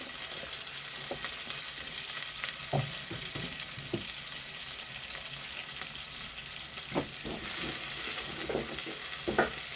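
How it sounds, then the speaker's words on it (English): Onions cooking in a pan in an African home kitchen, a steady bright sizzle with intermittent stirring scrapes and soft clicks, close and continuous with no talking. "I love to add salt in this onions when it's cooking"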